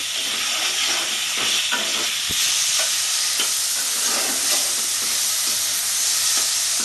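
Spice paste with turmeric and salt frying for a Bengali crab curry, a dense steady sizzle close up with occasional scrapes and clicks of stirring, no voices.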